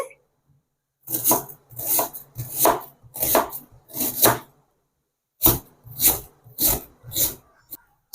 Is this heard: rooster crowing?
no